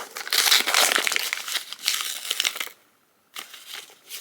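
Wrapping paper on a gift-wrapped book crinkles and crumples close up in bursts of handling, with a short silent gap before a final rustle.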